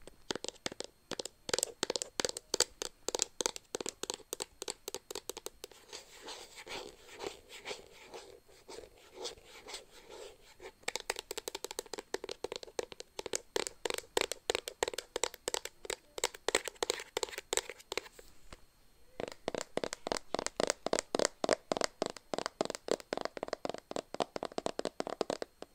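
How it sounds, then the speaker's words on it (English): Fingernails tap rapidly on adult gummy vitamins, a dense run of close, crisp clicks that continues in bursts with only brief pauses, with no talking. "for our tapping, we have some adult gummy vitamins"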